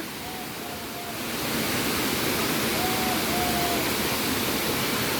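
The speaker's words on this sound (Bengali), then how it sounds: "এই যে ঝর্ণা" A mountain waterfall in Malaysia roars steadily near a barbecue spot, a broad constant rush of falling water that swells louder after the first second and keeps going, with faint higher tones briefly audible beneath it.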